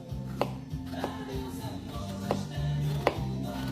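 A knife cuts through a potato in repeated accordion-style slices, stopped by a wooden spoon set behind it, while a roast and potatoes are prepared for the oven. Four crisp chops land at uneven intervals over a low background hum, close and moderately loud, with no talking.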